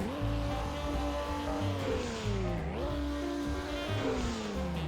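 Porsche 959 turbo engine in the driving game Car Driving Indonesia drones steadily and loudly, its pitch climbing and dropping through repeated gear shifts with a continuous whine and no talking.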